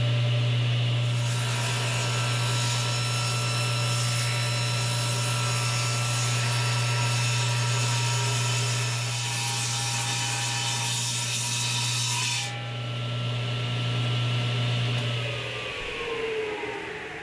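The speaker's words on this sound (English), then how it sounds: "I showed him how to cut the pieces to length using the T-square" A table saw hums steadily for about fifteen seconds while wood pieces are cut to length, with a brief louder hiss of the blade biting through the wood before it winds down.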